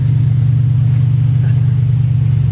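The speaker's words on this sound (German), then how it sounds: "Einmal um den Kreisel driften!" A 1989 Chevrolet Caprice's engine drones steadily and loud at close range as the car drifts around a roundabout, a constant low rumble with no talk.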